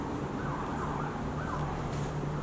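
A police car siren wails on a nearby street, its rising and falling tone faint under a dense wash of traffic and outdoor noise for a couple of seconds.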